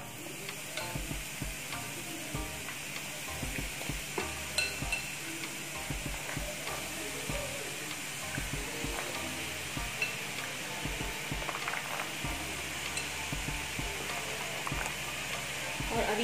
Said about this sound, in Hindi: इसके बाद हम मूंगफली फ्राई करेंगे